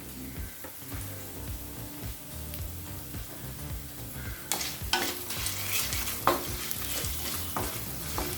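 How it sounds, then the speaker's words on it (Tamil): Chopped ginger, turmeric and salt sizzle and fry steadily in a hot pan for lemon rice, with occasional scraping and stirring clatter from a utensil, close and moderately loud, no voices. "மஞ்சத்தூள் வாசனை போக லேசாக வதக்கினா போதுங்க"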